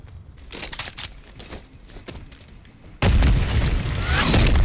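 C4 charges detonating in Call of Duty: Modern Warfare III. Light scuffling and clicks lead into a sudden, loud, close explosion that booms and rumbles on to the end.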